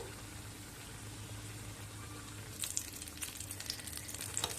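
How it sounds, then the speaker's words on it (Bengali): Atta aloo kachori deep-frying in hot oil, a steady close sizzle and crackle with brighter bursts of bubbling in the second half, no voices. "দুই দিক হালকা লালচে করে ভেজে বের করে নেব"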